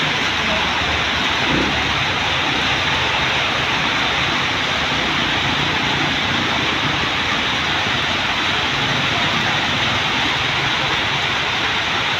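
Heavy rain pours steadily for the whole stretch, a loud, dense, unbroken hiss of drops with no pauses and no voices.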